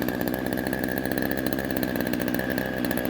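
A running chainsaw with its chain brake off gives a loud, close, steady buzzing drone throughout, with no talking.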